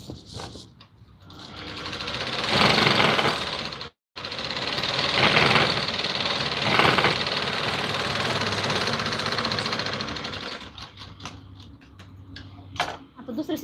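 A sewing machine runs in long, steady bursts, top-stitching the joined panels of a Patiala salwar, with a short stop near the middle and a rapid mechanical whir throughout.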